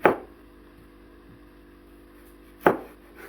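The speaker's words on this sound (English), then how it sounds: "You slice them thinly" A knife slicing cucumber and carrots thinly makes two crisp, close chops against a board, one at the start and one near the end, separated by a quiet pause with a low background hum.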